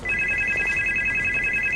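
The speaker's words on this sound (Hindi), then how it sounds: "ओ वेट, फोन आ रहा है।" A phone rings steadily in the background of a horror video game, a continuous electronic two-tone ring held over a dense, noisy ambient bed with no pause.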